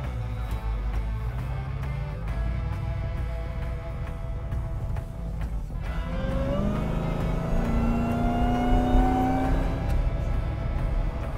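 An 840 HP AMW Demon Gladiator turnkey truck engine hums steadily while driving, then rises in pitch as it accelerates, heard from inside with no talk.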